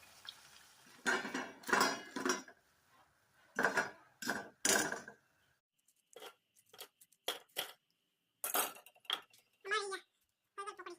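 Pakora is prepared in a home kitchen with cabbage, potato and onion, giving scattered clinks and scrapes of utensils against pots and dishes in short bursts with quiet gaps between them. A voice talks at moments.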